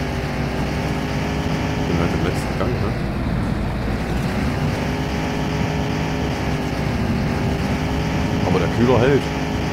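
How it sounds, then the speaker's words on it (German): In The Long Drive video game, a car engine held at full throttle drones steadily and loudly, a continuous harmonic hum with slight swells in pitch. "wenn ich weiter hier immer nur Gas gebe, dann platzt uns der Motor oder irgendwas weg."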